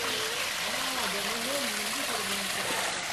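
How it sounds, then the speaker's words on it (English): Spring water flows out of rocks at Barton Springs into a small river, a steady broadband wash and trickle running continuously under a faint tonal hum. "This is Barton Springs. Water coming out of the rocks."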